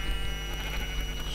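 Sheep bleating on a Minecraft survival farm, a faint, wavering animal call over steady game background noise, heard without any talking.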